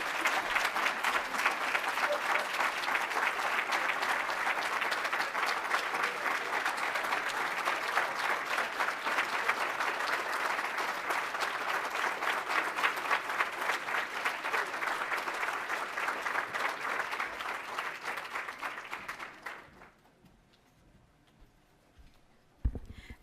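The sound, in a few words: audience applause after a speech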